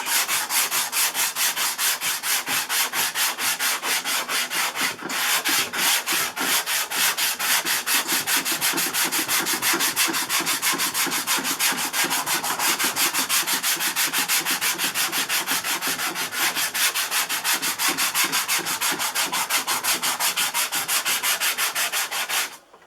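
Steady, close block sanding with sandpaper across aircraft fuselage bodywork on a Corsair, a dense rhythmic scratching rasp that runs unbroken and alone for the whole stretch, with no talking.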